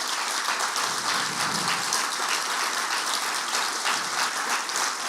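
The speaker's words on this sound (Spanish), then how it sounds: "yo pido en verdad un aplauso muy grande para ellos" A church congregation applauds for a steady stretch, dense clapping filling the room at an even level with no one speaking over it.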